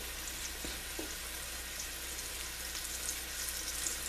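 Beef pieces for Swiss steak sear in a crowded pan, giving a steady, fairly quiet hiss of sizzling with a few faint ticks and pops across the whole stretch, with no voices.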